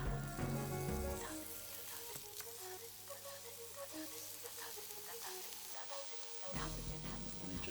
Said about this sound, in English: what I'm going to do is I'm going to toast off our buns